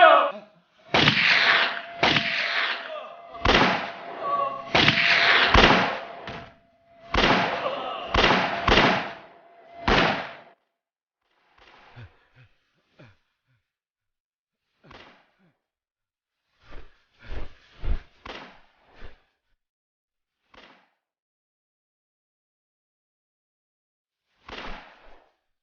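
Gunfire in a Hindi period film scene: a rapid volley of loud sharp shots crowds the first ten seconds, then scattered single reports and thuds follow more sparsely with long quiet gaps.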